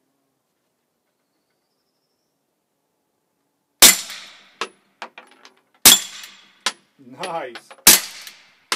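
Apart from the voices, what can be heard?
suppressed Canik TP9 SF pistol shots with Vortex 9 silencer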